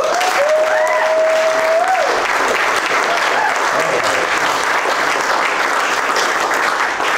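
Steady, dense applause from a comedy club audience fills the whole stretch, loud and continuous, with a brief whistle near the start.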